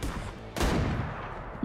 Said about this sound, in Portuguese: Oxi, mas que foi um tiro só.